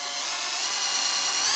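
A power drill whirs steadily at high speed, driving number 8 screws into a dormer vent. The whine is close, loud and continuous, and nobody speaks.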